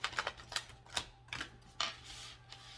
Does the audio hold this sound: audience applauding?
no